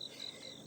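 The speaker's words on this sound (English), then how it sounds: "I'm out here in nature and I'm listening to the crickets and the birds" Crickets chirp outdoors at dawn in a thin, steady high-pitched trill that pulses slightly, faint and alone.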